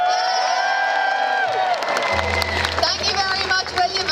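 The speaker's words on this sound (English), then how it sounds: "Slide to the right if you want the crowd to cheer really loudly for you." A crowd at Liverpool Comic Con 2019 cheers and whoops loudly, a dense wall of many voices with shouts rising over it and a low rumble entering partway through.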